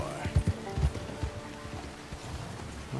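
Horse hooves clip-clop in Red Dead Redemption 2, a few uneven thudding steps close by in the first second, then a softer steady gait under background game noise.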